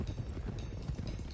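Horses trotting in the Red Dead Redemption 2 video game, a steady busy clatter of hooves with low rumbling, continuous and moderately near, with no talk over it.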